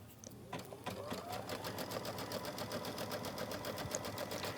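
A sewing machine runs a steady placement stitch on quilting fabric, its needle chattering in a fast, even mechanical rhythm, close and fairly quiet throughout.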